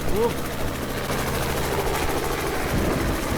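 A helicopter's rotor chops with a steady, low mechanical drone, loud and close, while voices briefly come through over it, in a Minecraft parkour animation.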